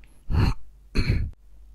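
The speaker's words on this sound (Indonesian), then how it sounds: "Maaf, saya mau batuk dulu." Two rough throat clearings, close and fairly loud, separated by a short pause, with no talking.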